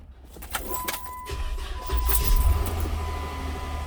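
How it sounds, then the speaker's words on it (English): A car engine cranks with a jangle of keys, then catches and settles into a low, steady rumble as it starts up close by, with no talking. "It's cranking up."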